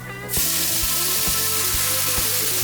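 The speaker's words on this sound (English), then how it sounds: "then we deglaze the pan with brandy" Brandy hits a hot cast iron pan holding shallot and peppercorns for a steak au poivre pan sauce, bursting into a loud, steady hiss after a brief quiet start, with low tones beneath.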